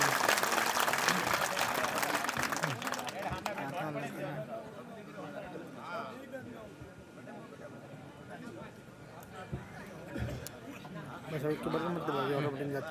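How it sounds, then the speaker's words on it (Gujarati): A crowd claps to welcome a literary artist at a temple consecration ceremony of a Chaudhari community, loud at first and then thinning into scattered claps and chatter, with talk running throughout. "જોરદાર ઊંચા હાથ કરીને તાળીઓથી તેમનું સ્વાગત કરીએ"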